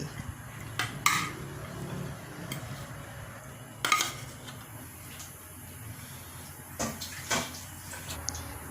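Dishes and cutlery clink a few times in bursts while spicy grilled mackerel herb salad is plated with betel leaves, the knocks fairly close over a quiet kitchen background.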